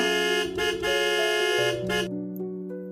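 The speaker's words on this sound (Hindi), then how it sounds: "ड्राइविंग सीट संभाली और हॉर्न बजाया।" A car horn honks in a few long blasts, loud and close, then fades into a quieter tonal tail.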